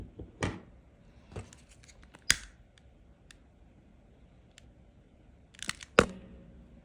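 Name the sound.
scissors cutting wire for macramé snake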